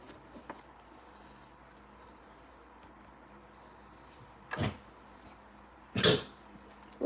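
Two short, sharp sneezes a moment apart in an otherwise quiet room, nearby and fairly loud against soft background hiss.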